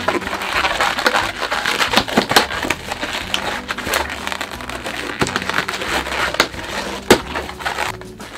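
Latex balloons are twisted and tied together into an Among Us crewmate, giving dense close squeaks, rubbery crackles and sharp creaks that run continuously without talk.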